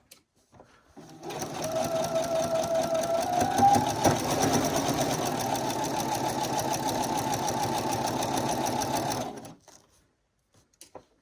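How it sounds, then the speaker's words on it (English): A sewing machine runs steadily for about eight seconds as it stitches down a bag seam, a close, even mechanical whir that starts and stops cleanly. "And then I'm going to go all the way down, taking out my pins as I go"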